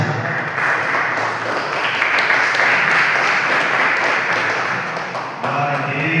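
Church congregation applauding during an evangelical family service, a steady wash of many hands clapping throughout, broad and dense, with a brief dip near the end before resuming.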